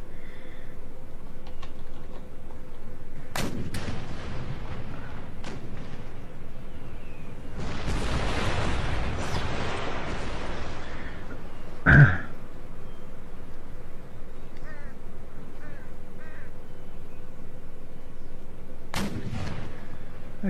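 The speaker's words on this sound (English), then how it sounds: "The cannons are getting a few shots off," Cannons fire in a game siege, sharp booming shots spaced out over a quiet background: a few isolated blasts, one longer rumbling burst, and a louder shot midway, none of them overlapped by talk.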